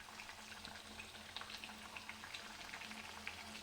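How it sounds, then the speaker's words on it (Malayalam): Pathiri, a flat rice bread pressed thin, fries in hot oil in a thin pan, giving a steady, quiet bubbling sizzle with scattered small pops throughout and no talking. "ഇതുപോലെ നമുക്ക് മറ്റതും പ്രസ് ചെയ്തിട്ട് ഇങ്ങനെ പൊരിച്ച് കോരിയെടുക്കാം"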